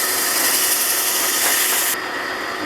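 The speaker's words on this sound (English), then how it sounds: "I'll put it in a chuck of a drill press. It gets the once over with 150 grit paper." A drill press spins a small knob against 150 grit sandpaper, giving a steady, loud, hissing whir of abrasive rubbing that drops off sharply near the end.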